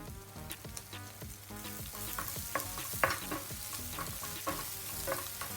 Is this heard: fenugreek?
yes